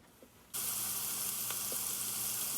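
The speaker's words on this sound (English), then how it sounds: "You can add in your ground pork and continue to cook that until it's fully browned." Ground pork hits a hot pan and erupts into a loud, steady sizzle of frying that continues without pause, with a couple of faint clicks of stirring beneath it.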